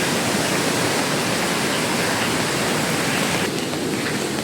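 A monsoon-swollen river, the Hongu Khola, roars in a dense, unbroken rush of churning water, loud and close with no pauses.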